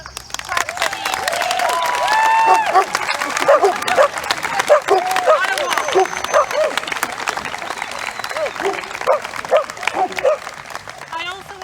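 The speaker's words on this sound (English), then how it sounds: "can we just have a clap for Eve" Rally crowd at a Black Lives Matter gathering in Clitheroe claps for an organiser, a sustained outdoor patter of hands mixed with scattered voices and a dog barking nearby, building then fading over several seconds.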